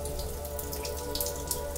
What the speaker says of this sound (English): I watched how the tipping bucket behaves under strong streams of water and